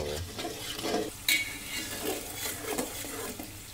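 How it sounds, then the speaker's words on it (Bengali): A utensil repeatedly stirs and scrapes red oil fishing bait cooking in a pan, giving rhythmic clinks and scraping over a continuous sizzling fry. "খুব ঘন ঘন এটাকে নাড়তে হবে"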